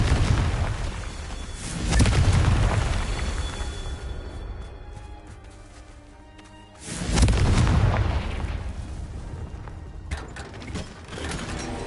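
Two heavy booming blasts from the Confringo blasting spell in a Harry Potter video game, each a loud broadband explosion followed by a long rumbling decay, with mechanical clanking in between and no talk.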